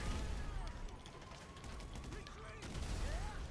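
Video-game gunfire in GTA 5 as a player fires bullets at a military tank, a dense continuous burst of shots running throughout with mechanical clatter layered in.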